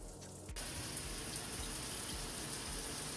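Water bursts on from a bathtub and shower tap during a repair, turning into a steady, full gushing rush that continues without pause.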